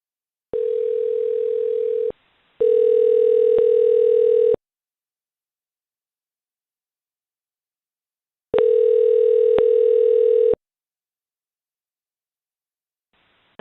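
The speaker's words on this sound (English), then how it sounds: "I'm gonna call him with a different caller ID." Loud telephone dial tone heard in several steady bursts separated by silences while calling a scammer back, clean and close with no talk.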